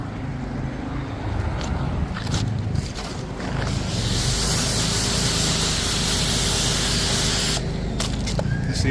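Steady broadband hiss of a spray nozzle washing down a surface during routine maintenance cleaning, close and continuous, growing louder and fuller midway before easing near the end.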